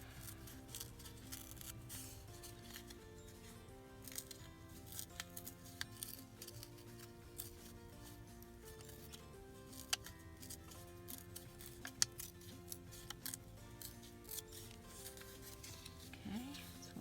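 Scissors fussy cutting around a paper piece, faint irregular snipping clicks scattered over quiet background music, close and soft.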